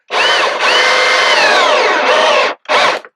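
A large step drill bit boring through the metal skid plate of a Can-Am/BRP Outlander 1000R XMR ATV during a plow install, a loud, close, high whining grind lasting over two seconds, then a brief second burst.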